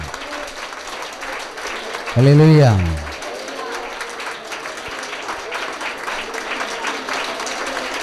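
Applause offered to God at a Tamil Christian fasting prayer meeting: a congregation clapping steadily under a loud sung or shouted "hallelujah" near the start, then continuing clapping with voices mixed in.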